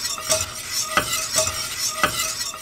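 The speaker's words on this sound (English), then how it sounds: "mix this honey in with the eggs" Honey being stirred into eggs for homemade eggnog, heard as a steady run of rhythmic utensil strokes scraping around a bowl roughly every two-thirds of a second, close and moderately loud, with no talking.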